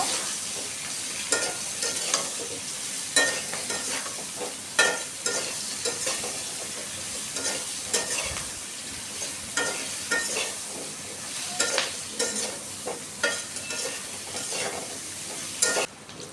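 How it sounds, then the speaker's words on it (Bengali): Taro and potato fry in oil with turmeric and salt, a loud dense sizzle with regular scraping stir strokes and occasional clatter, close up and without speech. "হলুদ লবণ দিয়ে কচু আর আলুটাকে আরেকটু ভেজে নিব।"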